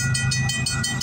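A Canadian Pacific freight train passes close by at night in winter near Campbellville, Ontario, with heavy rumbling and a regular, rapid clickety-clack of wheels over rail joints, loud and continuous with no voices.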